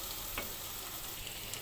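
Boiled brain cooks in a pan with cumin powder, a continuous close sizzle and hiss with a brief stirring scrape partway through.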